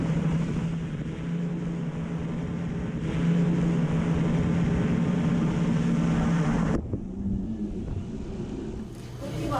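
An eight-motor delivery drone flies nearby, its rotors producing a steady loud whirring drone mixed with wind noise, which cuts off abruptly near the end.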